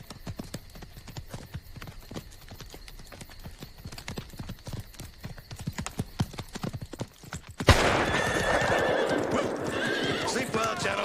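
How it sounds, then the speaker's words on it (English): Horses clop along with steady, rhythmic hoofbeats for most of the span, punctuated by whinnies, before a sudden burst of loud, dense noise takes over near the end. "Hector, get the horses."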